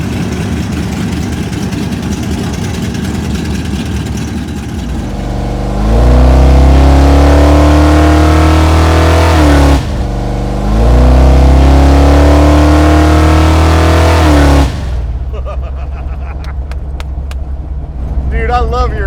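A 1200hp nitrous Chevelle Pro-Street car rumbles at idle, then roars through two long, loud revving pulls with a brief lift between them, settling back to a lumpy idle with faint clicks at the end.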